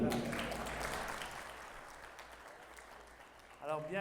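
Audience applause in a French-language church gathering, a broad wash of clapping that starts strong and gradually fades over a few seconds before a voice begins speaking.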